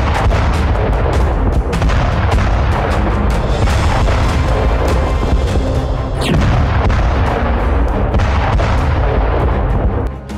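Heavy artillery fire and explosions from Russian attacks in a Ukrainian border area, with dense, loud booms and rumbling blasts layered almost continuously, plus a sharp crack partway through.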